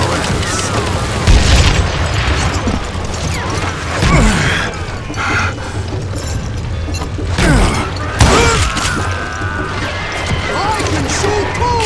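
Gunfire and booming impacts in the Western shooter game Call of Juarez Gunslinger, loud and dense with repeated shots, crashes and clattering mechanisms throughout.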